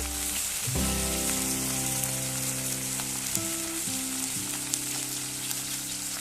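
Small puti fish frying in hot oil with a steady, dense sizzle throughout, close and continuous, with a few faint background tones.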